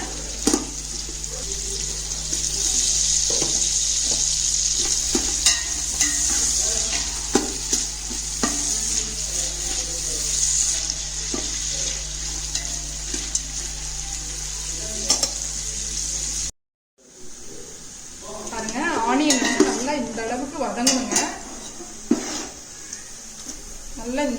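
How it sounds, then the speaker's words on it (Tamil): Ingredients for mutton dum biryani sauté with salt in a pan, giving a steady loud sizzle with spoon stirring and scraping throughout, broken by a brief silence before the frying resumes, and voices speak over it. "நல்லா ஃப்ரை ஆகணுங்க அந்தளவுக்கு நம்ம ஃப்ரை பண்ணிக்கலாம் கொஞ்சம் சால்ட் போட்டு நல்லா வதக்கலாங்க"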